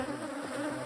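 Bees buzz in a steady, dense, continuous drone that fills the whole moment at a moderate level, with no voices.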